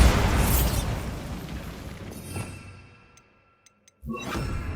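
A Bombarda spell explosion from the video game Hogwarts Legacy: a loud, sustained blast with crackling debris that fades over about three seconds, a short near-silence with a couple of faint ticks, then a fresh rumble swelling back in.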